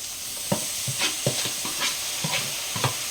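Chicken and tomatoes fry in a pan for a chilli chicken fry, with a constant sizzle and rhythmic scraping stirs of a spoon, heard up close.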